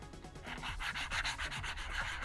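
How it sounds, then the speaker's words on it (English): Steady rhythmic rubbing of a foam sanding block against a helmet being built, close up, repeated back-and-forth strokes with no talking. "These foam sanding blocks are just the best thing I've found as far as rounding things off"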